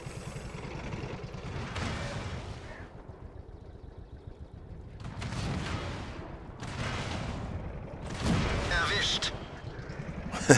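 Tank cannon fire in the video game World of Tanks comes as a few heavy, broad booming blasts spaced seconds apart, each rumbling and fading over a steady game background.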